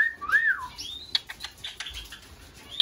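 Mikey, a pet bird, gives a faint, short whistled note that rises and falls, followed by scattered soft chirps and a couple of light clicks in a quiet room.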